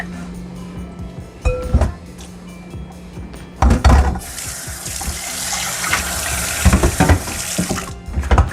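Beef liver rinsed under a running kitchen tap, splashing water bursts in and out with handling noises and clatter, close and fairly loud, with a steadier stream of flowing water in the second half.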